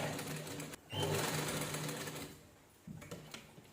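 Sewing machine stitching the neckline of a jeans-style top made from saree fabric, a steady close whirring run that pauses briefly near the middle and then resumes in short bursts.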